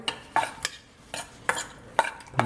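Spoon stirring and clinking through a small amount of egg white in a bowl, a series of short sharp taps and scrapes in an irregular rhythm, close and clear with no talking.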